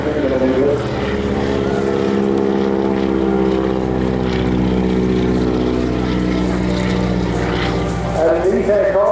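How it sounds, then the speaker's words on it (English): A Boeing Stearman wingwalking biplane with a big Hamilton Standard propeller roars at the Eastbourne Airshow, a loud, steady, droning engine and propeller rumble with a public-address commentator talking over it. "that lovely roar of the big Hamilton standard propeller there coming from the front"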